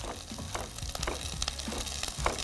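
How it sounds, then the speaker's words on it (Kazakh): Vegetables fry in hot oil for a warm vegetable salad in a studio kitchen, a faint, continuous sizzle with occasional soft pops and stirring, heard alone without talk. "қызып тұрған майда жақсы қуырылады"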